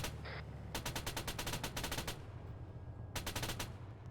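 Arma III gunfire: two rapid automatic bursts of rounds, the first long and the second shorter after a pause, fairly distant and moderately loud over a low background rumble.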